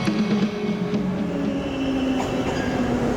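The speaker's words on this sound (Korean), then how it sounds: "잠시 모스크바 지하철을 보실까요?" A Moscow metro subway train rumbles steadily close by with a continuous loud roar, a faint rhythmic clatter of wheels and a thin high metallic whine running through it.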